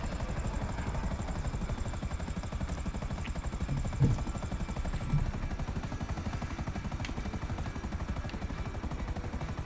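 Helicopter in GTA Online coming in to land, a steady loud rotor chop and engine drone throughout with a couple of brief thumps near the middle.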